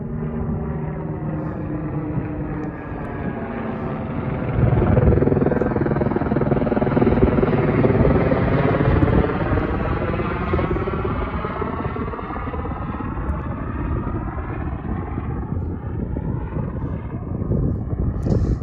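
Helicopters preparing for an autorotation glide, with a steady loud rotor and engine drone that swells midway and holds strong, the blade harmonics sweeping slightly in pitch as they manoeuvre.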